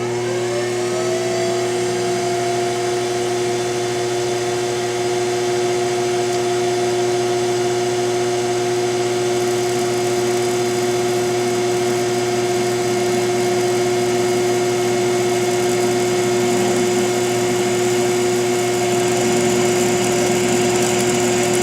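A steady, loud mechanical whine of a drill running continuously with a dial indicator mounted, with a constant motor hum and faint rising grinding as it bites into metal.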